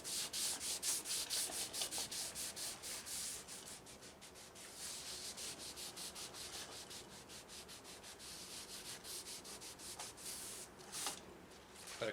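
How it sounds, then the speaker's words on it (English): Cloth rubbing wood stain into a deer antler mounting plaque, quiet and close, with quick repeated back-and-forth wiping strokes that slow a little midway. "Put a coat on there and just kind of wipe it off any excess."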